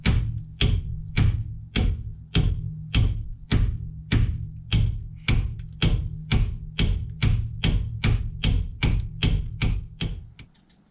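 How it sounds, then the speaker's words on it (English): A hammer strikes a brake disc over and over to knock it loose, about twenty sharp metallic blows at a steady, slightly quickening pace, close and loud with nothing else heard. "Maybe I need to whack it with a hammer to loosen it up."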